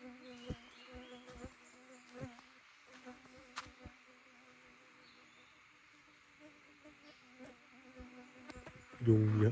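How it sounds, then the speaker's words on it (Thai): Many mosquitoes buzzing close by with steady high whining drones, clicks and rustles underneath, and a brief louder bump at the end. "ยุงเยอะมากๆนะครับ ยุงเยอะจริงๆตอนนี้ บินดังมากเนี่ย"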